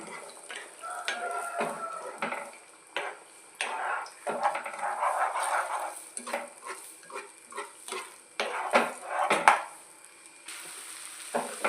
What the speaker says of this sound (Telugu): ఇలా కలుపుకుంటూ వేపుకోవాలన్నమాట